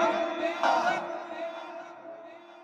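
A crowd at an outdoor Islamic religious gathering (tafsir mahfil) in Madaripur answers with a chanted takbir, a loud unified shout that rises sharply, then trails off and fades over a couple of seconds.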